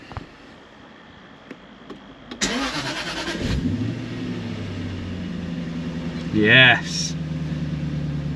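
A car engine cranks and fires up after a new battery has been fitted, catching with a rising burst and settling into a steady idle, with a brief rev and a short spoken word before it starts.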